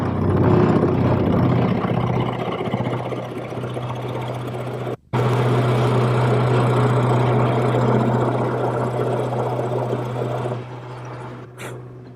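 A drill press boring a hole in wood hums loudly and continuously, briefly cutting out for a moment before resuming, then dropping off near the end.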